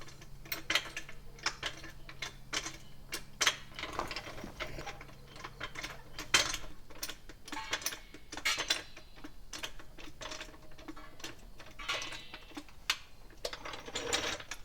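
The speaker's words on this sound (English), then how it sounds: "so we're gonna have to jack it up on the body of the frame" A small floor jack is pumped by hand to lift a full-size truck by its frame, giving a steady run of close ratcheting clicks and metallic pawl taps with no talking.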